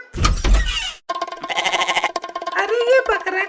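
A cartoon goat bleats with a wavering, shaky voice in a comedy animation, following a loud burst of noise and surrounded by animated character talk.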